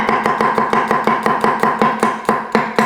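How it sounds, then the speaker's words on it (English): A knife chops seven garlic cloves on a cutting board for a beef rendang curry, giving about fourteen crisp, evenly spaced close-up strikes. The rhythm is steady and there is no talking. "7 amazing cloves of garlic. So let's just chop these up."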